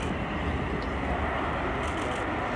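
C-17 Globemaster III military transport jet making a flyby at the RIAT 2024 airshow, a loud, continuous broadband engine roar that fills the whole stretch without a break.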